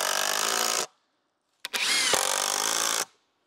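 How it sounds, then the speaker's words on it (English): A power drill drives small screws into wood while building an off-grid water tower frame, giving two close, loud high-pitched whirring bursts separated by a short pause, each ending abruptly. "put some screws in the back to hold it in place"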